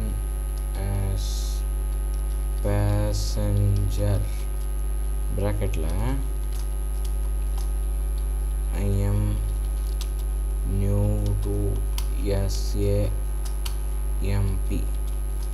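Computer keyboard typing while playing San Andreas Multiplayer, scattered light key clicks over a steady electrical hum, with someone speaking Tamil in bursts throughout.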